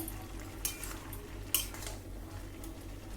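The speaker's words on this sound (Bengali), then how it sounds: "এবার আমি ঢাকনাটা খুলে দেখে নেব যে লাউ কতটা সিদ্ধ হয়েছে।" A metal lid lifted off a pot of cooking bottle gourd makes two sharp clinks close by, over a faint, low simmering hum.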